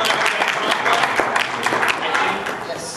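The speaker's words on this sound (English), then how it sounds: "Give her a round of applause." A convention crowd at an anime event panel claps for a prize winner, producing a loud, dense burst of applause that continues throughout, with voices mixed in.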